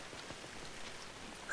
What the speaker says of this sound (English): These scenes with the rain